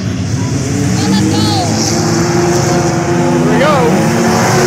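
Kids' modified race cars circle a county speedway toward a green flag start, a loud, steady engine roar with rising and falling revs. Announcer-style speech and crowd noise run throughout.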